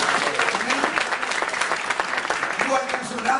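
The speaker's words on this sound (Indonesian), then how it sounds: "kita berikan tepuk tangan yang meriah" A church congregation breaks into lively applause during a sermon, dense continuous clapping from a large crowd with some voices mixed in.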